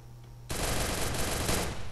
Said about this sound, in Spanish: Disparos aquí dentro, creo.